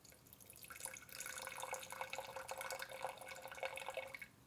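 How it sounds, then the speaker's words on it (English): Filtered water runs steadily into a Blendtec blender jar, a continuous close splashing trickle lasting several seconds. "60 grams of water."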